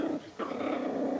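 A guard dog growls in a low, steady rumble close by, with a brief pause early on before the snarl swells back and continues alone.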